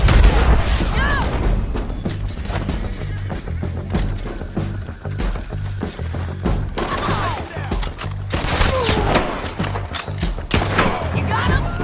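Heavy gunfire from a Western shootout in the video game Red Dead Redemption 2, with repeated loud shots, booming blasts and crackling volleys running continuously under shouted voices throughout.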